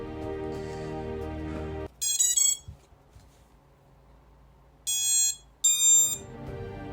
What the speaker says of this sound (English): This is gonna be the best feeling when I hear the ESCs, the motors making the sounds